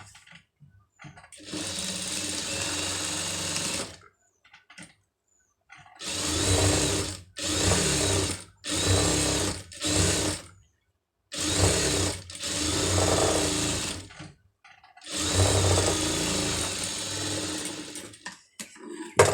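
A sewing machine stitches piping onto a sleeve in a series of close, steady bursts of rapid mechanical whirring, each lasting a few seconds, separated by short silent pauses and with no talk.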